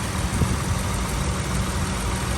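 A Honda Accord G7 with a dual gas and petrol fuel system idles smoothly, a steady low even engine hum that stays constant and close with no voices over it.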